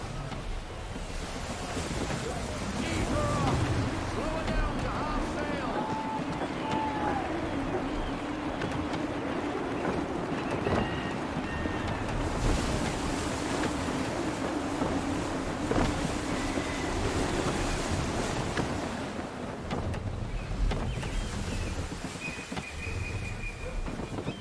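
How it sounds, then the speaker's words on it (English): Constant gusty wind roars over ocean waves while a sailing ship moves through the water in Assassin's Creed III, a dense, loud and unbroken wash of noise with faint creaks and tones in it. "Gusty winds can be difficult to manage."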